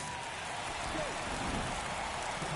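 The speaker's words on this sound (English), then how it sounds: "It feels like we might be headed towards a rain delay if the weather doesn't ease up, Chris" Steady rain falling over a baseball stadium, Petco Park in San Diego, in a baseball video game's Phillies at Padres matchup, a dense, even hiss that continues unbroken throughout at a moderate level.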